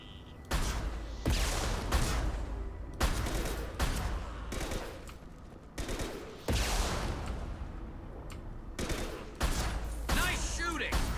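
Sniper rifle shots in Mass Effect 2, about eight heavy booming reports spaced roughly a second or more apart, each with a decaying tail, loud and close.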